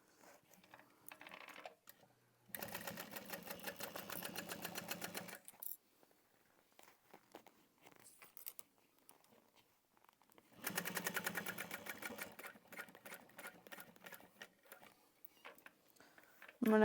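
A sewing machine stitches around a fabric tote bag in two long, fast, rhythmic runs, with quieter pauses and handling sounds between them.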